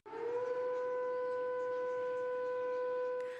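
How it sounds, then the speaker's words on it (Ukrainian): An air raid siren wails on a steady, sustained tone, loud and close, sounding alone without speech after a quick rise at the start, during wartime alerts near Ocheretyana Bay in occupied Crimea. "Наступного дня сирена лунала в районі Очеретяної бухти"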